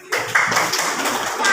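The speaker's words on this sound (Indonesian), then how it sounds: "Tepuk tangan." Applause from a class of schoolchildren during an Indonesian lesson, many hands clapping in a steady, continuous patter that starts abruptly and carries on to the end.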